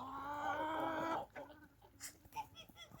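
A hen clucks and murmurs close by for about a second, then quieter scattered clucks and small farmyard noises follow.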